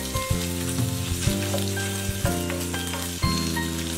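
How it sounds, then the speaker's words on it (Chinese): Pork belly fries in a wok with ginger and garlic over low heat, a steady close crackling sizzle with spatula scrapes and clanks against the metal, no talking. "热锅凉油，姜蒜爆香，下五花肉，小火炒至肉酥出油"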